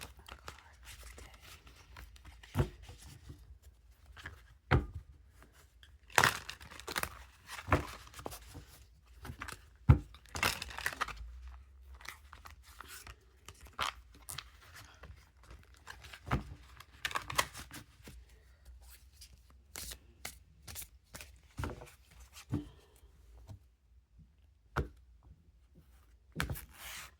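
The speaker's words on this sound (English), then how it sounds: "I'm gonna shuffle this up so we can have a card of the day." A tarot deck shuffled up close in a quiet room, giving scattered soft card flicks, riffles and taps spread unevenly across the stretch, faint and intimate with no talking.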